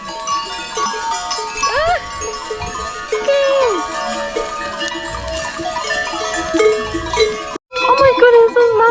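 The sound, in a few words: large herd of goats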